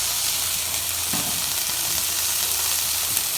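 Onions, mushrooms and beef fat fry on a cheesesteak griddle, a steady close hiss of sizzling with occasional scraping stirs.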